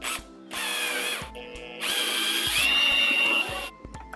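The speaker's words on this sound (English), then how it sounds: "What I'm gonna do first is I'm gonna pre-drill my rivet holes." Power drill pre-drilling rivet holes for a winch electrical disconnect on an off-road vehicle, heard as several close, loud bursts of whining motor with a rising pitch, separated by short pauses.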